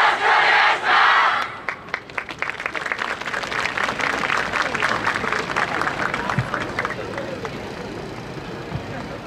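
Audience at the Inuyama dance festival main stage cheering for a group performance, a loud roar and shouts at first, then dense rhythmic clapping and crowd noise continuing steadily underneath.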